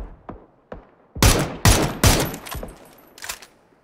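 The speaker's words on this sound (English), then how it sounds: "Is that the guy shooting at me?" Gunfire in PlayerUnknown's Battlegrounds, a handful of sharp single shots early on, then several loud, closely spaced blasts with fading tails and a couple of lighter cracks at the end.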